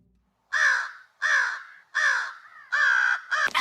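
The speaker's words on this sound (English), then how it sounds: "He lifted his head and opened his beak to sing." A crow caws five times in a steady sequence, each call loud, harsh and close, separated by brief silences, with a sharp thump at the very end.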